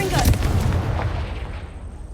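A Confringo spell blast in the video game Hogwarts Legacy goes off as one loud booming burst that rings out and fades over about two seconds.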